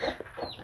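A hen in a cage with chicks gives soft, quick clucks, a couple of short close calls in a village setting.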